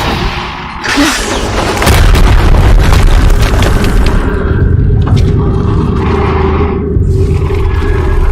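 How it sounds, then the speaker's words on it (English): A loud explosion in the video game Horizon Zero Dawn, a sudden booming blast followed by a long roaring rumble and crackling debris that sustains for several seconds. "Another explosion."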